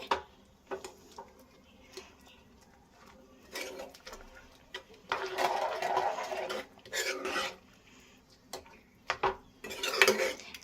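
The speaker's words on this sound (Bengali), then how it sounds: "হাতা দিয়ে আমগুলোকে এরকম করে ম্যাশ করে নেব।" Raw mangoes, cooked with sugar, are mashed with a ladle in a pot, making intermittent scraping, squelching and metallic clinks in short bursts, with quieter pauses between.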